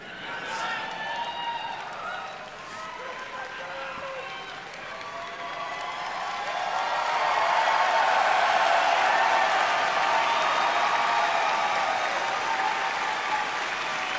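Audience applause at BlizzCon 2023, a large crowd clapping in a convention hall, sits under a voice over a public address system and then swells into a fuller, louder wash of clapping through the second half.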